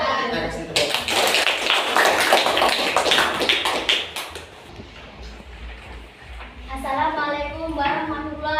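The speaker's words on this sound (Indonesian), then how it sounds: "Kita kasih tepuk tangan." Audience applause after a group presentation at Universitas Musamus Merauke, a burst of dense clapping that fades out after a few seconds, followed by a speaker's voice.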